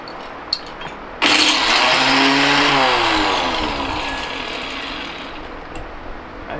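A grinding machine starts abruptly and runs loud and close as it crushes quartz vein ore samples from Wyoming mountains, its motor whine shifting in pitch before settling into a steady, slowly easing roar.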